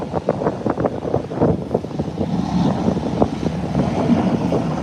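Embraer 120 Brasilia turboprop engines and propellers during a landing, giving a steady, fairly loud broadband roar with wind-like buffeting and gusty rumble throughout.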